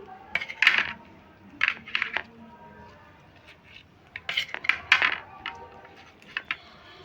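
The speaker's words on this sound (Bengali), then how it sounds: "আমি সুতোগুলো কেটে নিচ্ছি" Scissors snip the threads tied around steamed mourala fish paturi wrapped in bottle gourd leaves, giving several short metallic clicks and scrapes against a plate in small bursts, close and fairly quiet.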